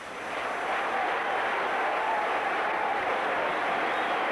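A large crowd at a night baseball game cheers and applauds, a steady broad roar that swells in at the start and then holds evenly, with no voices standing out.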